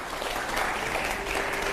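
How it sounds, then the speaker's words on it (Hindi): An audience at a televised Hindi political debate on Tv9 Bharatvarsh claps steadily in a dense, continuous burst of applause that fills the short moment without any talk over it. "अगला सवाल के लिए जोरदार तालियां हो जरा।"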